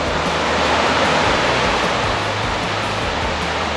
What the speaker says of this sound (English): we're out here at Miners Falls, right up close and personal with this waterfall.